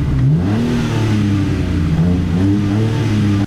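A BMW M4 Cabrio engine revs through its exhaust with the roof open, loud and close, its pitch climbing and dropping in repeated waves before cutting off sharply.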